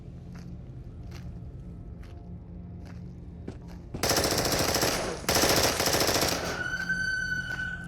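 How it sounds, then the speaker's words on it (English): A submachine gun fires full auto in the VR shooter Into the Radius, a dense, loud burst of rapid shots after a few quieter footstep-like thumps, with ringing tones trailing at the end. "I set my gun to full auto and blow him apart"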